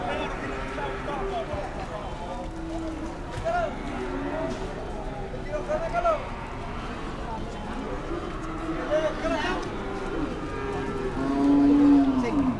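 Cattle mooing at a cattle market in Pati, Indonesia, with several drawn-out moos scattered throughout and a louder, closer one near the end, under nearly continuous talk and general market bustle.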